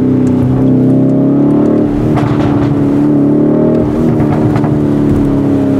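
Lamborghini Urus Performante engine revving loud and close, a steady deep roar that surges and eases over a few seconds.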